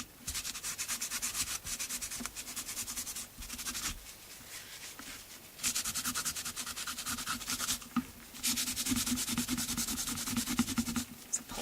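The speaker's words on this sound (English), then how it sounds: "It looks good when you first put it on, it looks even better once you buff it." Cloth buffing wax over an upcycled wood mixed-media piece decorated with micro beads, a steady close rubbing and scrubbing that comes in three long passes with brief pauses between them.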